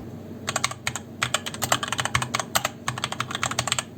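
Rapid typing on a HyperX Alloy Origins/Core mechanical keyboard with red switches, crisp clicky keystrokes in uneven bursts and runs, close and fairly loud, with no voices.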